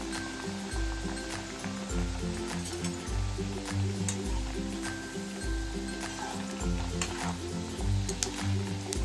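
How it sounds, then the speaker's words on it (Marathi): Wheat flour and jaggery snacks (kapanya) deep-fry in hot oil. A continuous bubbling sizzle carries steady stirring, with occasional light clinks of a utensil against the pan. "मस्त अशा ह्या गव्हाच्या कापण्या आता आपल्याला डीप फ्राय करून घ्यायच्यात"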